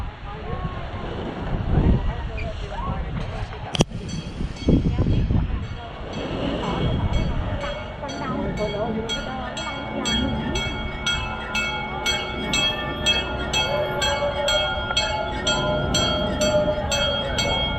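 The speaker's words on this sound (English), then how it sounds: "Here's the train." A tourist train rolls past on a Key West street with a steady mechanical rumble and a fast, regular clicking rhythm, heard outdoors under gusty wind noise close to the microphone.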